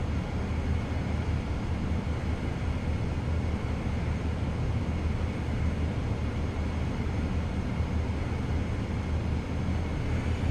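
Steady, dense roar of a Vision Jet rolling down the runway for takeoff in Microsoft Flight Simulator, a continuous broadband engine and rolling rumble holding even in level throughout with no voices.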